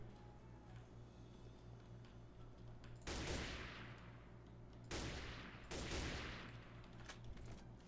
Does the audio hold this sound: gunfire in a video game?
yes